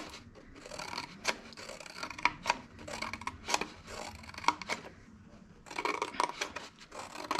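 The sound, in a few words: cutting paper with a pair of scissors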